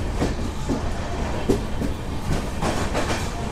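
The Kolkata–Sairang passenger express 13125 rolls into platform 2 at New Farakka Junction with a heavy, continuous rumble broken by irregular wheel thumps and clatter close by.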